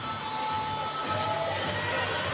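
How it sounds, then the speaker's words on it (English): Spectators at a para swimming 200m freestyle final cheering, a steady wash of crowd noise with shouts rising over a dense background roar. "The crowd really getting into it,"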